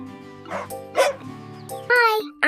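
An animated farm dog gives a few quick, bright barks and yips, close and loud, likely a voiced cartoon imitation of a dog.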